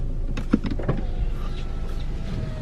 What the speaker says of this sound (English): I have to roll the windows up